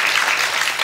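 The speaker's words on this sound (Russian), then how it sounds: "Аплодисменты ваши" Studio audience applause on a Russian night talk show, a dense, steady wash of many hands clapping close and loud for the whole short burst, with no voices over it.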